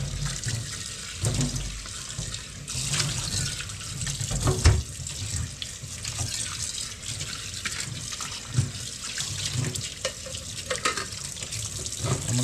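Calamansi fruits washed under a running tap: a steady rush of water with splashing and handling noises in a sink, loud and close, continuous for over twelve seconds, with no voices.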